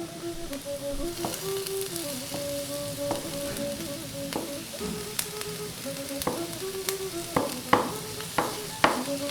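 Garlic fries in a pan with a soft, steady sizzle while metal utensils tap and scrape the pan repeatedly, the knocks growing louder and more frequent toward the end; faint tonal background sounds run underneath.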